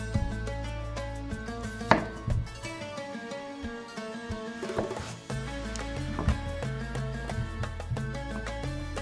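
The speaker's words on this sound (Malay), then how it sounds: "Potong dadu, nak mudah potong memanjang dulu" Quick, steady knife chops dicing cucumber on a cutting board, a rapid rhythm of crisp taps under constant background music.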